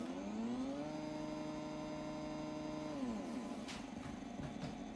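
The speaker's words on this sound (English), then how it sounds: "here you can see the 3D printer, which I purchased in order to support the production of the 8-bit hub case" A 3D printer printing red 8-bit hub cases gives off a steady electrical hum with tonal whirring stepper-motor notes that hold, then slide downward and break into shorter shifting movements, close and fairly quiet.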